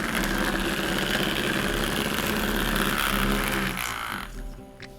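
A small motor stuck on a cork drives a little dance bot as it walks, giving a steady, fairly loud whirring buzz that runs without a break and then fades and drops lower near the end.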